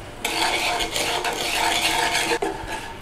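Sugar melting for caramel sauce is stirred in a pan with a utensil, close scraping and swishing strokes that continue steadily with a few brief pauses and faint clinks.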